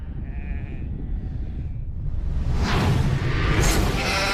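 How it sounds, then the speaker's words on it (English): Sheep bleat amid loud rumbling effects in the 2006 horror-comedy film Black Sheep, a brief bleat early on before a swelling whoosh and crash-like burst take over. "The sheep are revolting."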